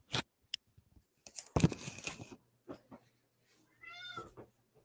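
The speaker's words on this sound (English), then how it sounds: "I gotta let this cat out. He wants out." A single cat meows near the end, a short, clear, rising cry wanting to be let outdoors, after scattered clatter and handling noises in a quiet room.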